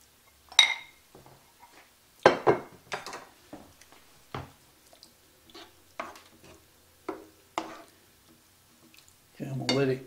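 Pepper steak stir fry gets stirred in a pan, with scattered scraping and clinking strokes spaced irregularly over faint sizzling, and a brief louder rustle at the end.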